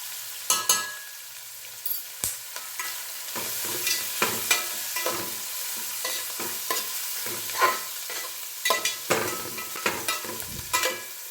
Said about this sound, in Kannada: ಈರುಳ್ಳಿ ಫ್ರೈ ಹಾಕಿರುವಾಗಲೇ ಒಂದು ಸ್ವಲ್ಪ ಅರ್ಶಿನದ ಪುಡಿನ ಹಾಕೊಂಬಿಡೋಣ